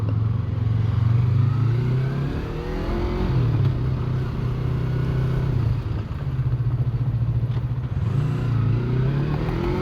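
Busy street traffic rolls past, with motorcycles and cars revving and accelerating nearby in repeated rising surges over a continuous engine drone, no voices.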